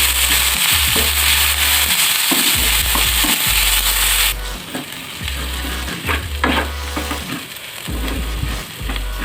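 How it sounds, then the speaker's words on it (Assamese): Loud, continuous sizzling of spices and onions frying in hot oil, with bursts of crackle and periodic low scraping as the pan is stirred; no talking. "এতিয়া গোটেইখিনি 1 মিনিটমান সময় ভাজি ল'ম।"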